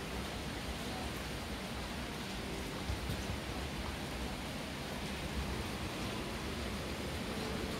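Steady night rain hisses as a dense, even wash of noise, fairly faint and unbroken, with no voices.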